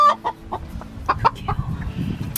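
Chickens cluck and squawk in short bursts at close range while being moved into a box, with scattered handling bumps and rustling beneath the agitated calls.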